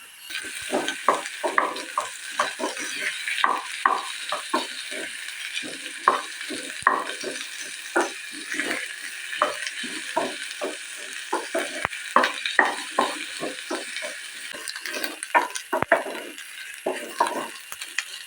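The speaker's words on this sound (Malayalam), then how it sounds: "കയ്പ്പയ്ക്ക നന്നായിട്ട് ഒന്ന് വഴണ്ടി വരുന്ന സമയത്ത്" Bitter gourd sautéing in a pan for a Palakkad-style curry, with frequent spatula scrapes and taps against the pan over a light, steady sizzle, close and rhythmic with no talking.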